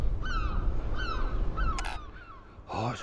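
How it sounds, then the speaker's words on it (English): Birds call near Dunbar on the Scottish coast, a series of harsh, repeated caws over a windy rumble, closing with a louder, nearer squawk. "it's always the bloody birds"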